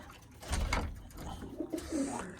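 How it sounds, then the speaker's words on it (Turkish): Mardin tumbler pigeons cooing softly nearby in a coop, low rounded coos overlapping in a steady murmur with faint rustling in the background. "Hepsi oyun kuşu Mardin"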